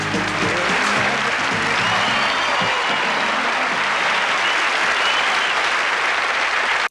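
An audience breaks into loud, sustained applause in the middle of a stage performance of a pop song at a 1979 amusement park TV special, the clapping dense and continuous throughout.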